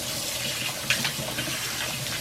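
Warm water runs steadily from a tap at close range, a continuous broadband gush with a brief splashy swell near the middle and no talking.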